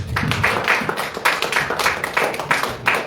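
A church congregation claps together to acclaim Jesus, giving a steady rhythmic run of close, bright hand claps with no pause.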